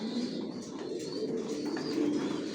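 Racer pigeons resting in a loft coo softly in a steady, low murmur, several birds overlapping at a moderate distance with no talking.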